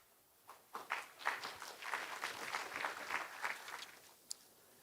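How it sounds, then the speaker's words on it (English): Audience at a conference opening ceremony in Daegu applauding the city's Deputy Mayor, a few seconds of soft, distant clapping that rises quickly, holds steady, then fades. "Please give him another warm round of applause."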